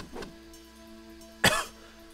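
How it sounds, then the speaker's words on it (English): A single sharp cough from a man playing the online game RaiderZ, loud and close, bursting out alone after a faint, softer throaty sound. "Stupid coughing."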